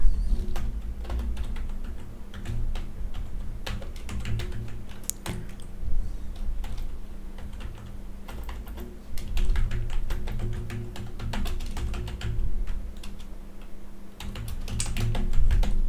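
Rapid, uneven clicking of keys as code is typed on a computer keyboard, steady close-up taps running throughout with a low background hum and no talking.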